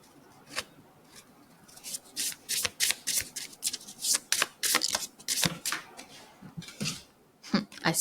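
A tarot deck shuffled repeatedly nearby, crisp riffling bursts in a quick uneven rhythm, loud and clear with no talking.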